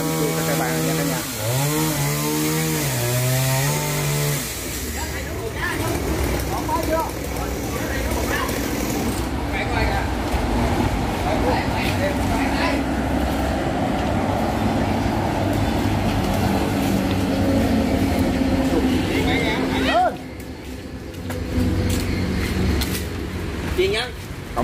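A chainsaw cuts through a tree, an Indian almond tree, in rural Đồng Tháp, Vietnam, running steadily at close range for most of the stretch with brief dips in engine pitch, while people talk over it.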